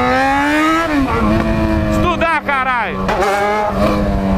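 A Honda Fan 150 motorcycle running without an air filter revs hard nearby, its loud raspy engine note rising, falling and climbing again, while someone talks over it.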